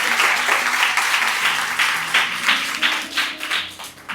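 A church congregation claps in rhythmic, pulsing bursts of applause that rise and fall over about four seconds, with a low hum underneath.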